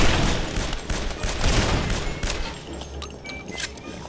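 Zombie enemies and players trading fire in a shooter game, with a continuous barrage of loud, close shots and bursts running through the whole stretch without pause.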